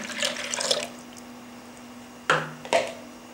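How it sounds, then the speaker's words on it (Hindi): Milk poured into a blender jug, a short, close liquid splash and gurgle followed by two sharp knocks of the jug. "जग में दूध डाल लें,"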